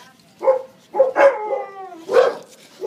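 A shelter dog just out of its kennel barks about four times in quick, close, excited bursts, with short pauses between them.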